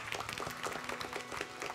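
A crowd at a live Tokyo game-show event applauds the winning team: dense, steady clapping that stays loud and even for the whole short stretch.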